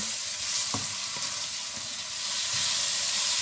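Salt-rubbed, shredded bitter gourd (ampalaya) sautés in a hot pan with a steady, bright sizzle and hiss, broken by a few soft stirring knocks.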